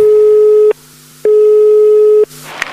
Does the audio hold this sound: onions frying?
no